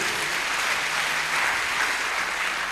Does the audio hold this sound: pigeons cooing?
no